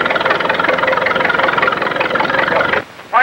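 A McCormick Deering row crop tractor engine idles steadily and loudly for nearly three seconds, a dense mechanical chug, then cuts off abruptly into a brief quieter gap with a short burst of sound at the end.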